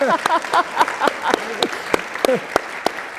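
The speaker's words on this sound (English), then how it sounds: "Round of applause to that." An audience at an evening talk claps in a spread of distinct, separate hand claps, while a voice carries on speaking over them in the foreground.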